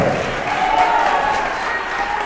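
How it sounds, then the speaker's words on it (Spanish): A church congregation claps hands in praise during a sermon, a dense continuous patter of many palms, moderately loud with voices mixed in. "alábele bien fuerte con sus palmas"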